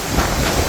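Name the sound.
wind and drizzle on a cruise ship deck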